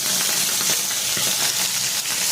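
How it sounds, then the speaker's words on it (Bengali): Bhetki fish fillets frying two at a time in a pan, giving a loud, dense, steady hiss and crackle close by, unbroken and with no one talking. "দুটো দুটো করে মাছটা ভাজা হোক।"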